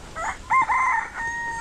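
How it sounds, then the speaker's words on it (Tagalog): A rooster crows once, close and clear, a rising-then-held cock-a-doodle-doo, on a rural property with many chickens around, with faint background noise and no talk. "Daming manok dito."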